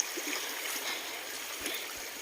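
Shallow, clear river water flows over a riverbed in the Philippines, a soft, steady babble and trickle with faint gurgles, fairly quiet and continuous, with no talking.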